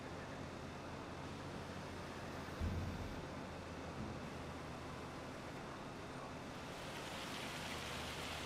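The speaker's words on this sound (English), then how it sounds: "Oh, it's fucking raining now. Oh, no, it's hail." Steady, fairly faint rain and hail fall in a farming video game, an even hiss throughout with one brief soft thump partway through.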